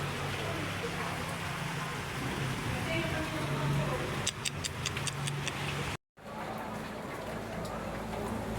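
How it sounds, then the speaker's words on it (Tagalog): Steady rain falls outside a home on a wet laundry day, a dense continuous hiss with a brief burst of faint ticking drips partway through and a short dropout near the end. "Guys, umuulan oh."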